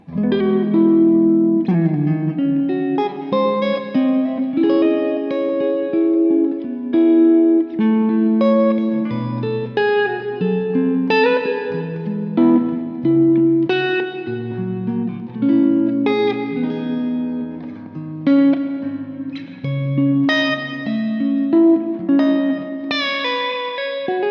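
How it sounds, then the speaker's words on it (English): A 1982 Gibson Les Paul Custom on its neck pickup plays a clean, warm, somewhat bassy, woolly tone, picking single notes and chords in a steady, unhurried phrase with no talking. "The neck pickup has quite a bassy, woolly response, but it actually works really nicely for clean tones."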